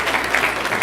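A short, fairly soft burst of steady clapping from a banquet audience in a dining hall.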